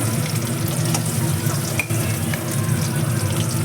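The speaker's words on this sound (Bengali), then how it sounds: "আলুগুলো আমি ভেজে তুলে নিলাম লাল লাল করে" Potatoes for chicken biryani fry in oil, giving a dense, even, close sizzle that continues without a break.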